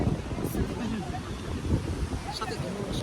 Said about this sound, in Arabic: صوت الموجة اصلا باين ان هو عالي